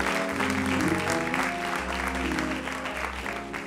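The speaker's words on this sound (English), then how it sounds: "a round of applause" Congregation applause at a church service fills the room as a steady, dense wash of clapping, mixed with sustained music playing underneath throughout.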